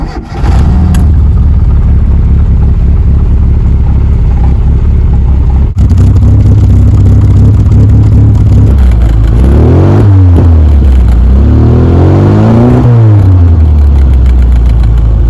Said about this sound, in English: we'll leave you on a few sounds of the engine and exhaust before we go.